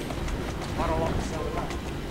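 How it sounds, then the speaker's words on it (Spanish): Hooves of a horse drawn fire carriage of the London Fire Brigade clop along a street in Assassin's Creed Syndicate, a rhythmic patter partly buried under a talking voice. "Como una carroza que bota humo, pero que a la vez maneja un caballo."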